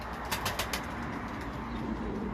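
Racing pigeons are released for a first-stage training flight. A quick flurry of wing flaps sounds early on, then gives way to steady outdoor noise.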